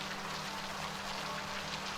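Steady rain falls throughout a scene from the TV show Fear the Walking Dead, a dense, even hiss of drops hitting surfaces with no pauses or voices.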